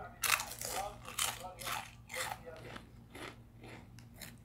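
Thin tomato-sauce-flavoured Arabian potato chips bitten and crunched up close, several sharp crisp bites at a steady rhythm over about four seconds.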